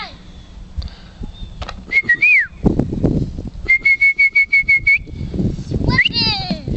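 A person whistling outdoors at a dock: rising and falling slides, then a rapid string of short repeated notes and a final swooping call, loud and close, with some talk in between.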